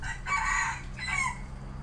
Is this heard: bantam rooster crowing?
yes